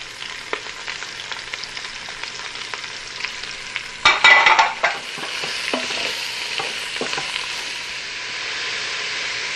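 Onions and garlic sauté in the pot of a Tristar Power Pressure Cooker XL, a steady soft sizzle with scattered stirring scrapes and a louder clatter of stirring near the middle, with no talk.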